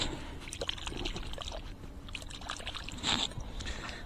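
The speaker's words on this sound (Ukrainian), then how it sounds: "Так, водичка рядом. Я одразу сполосну, щоб було видно." Water splashing and trickling as a small Soviet coin is rinsed by hand in river water on the Dnipro bank, a close, continuous sloshing with a brief brighter splash near the end.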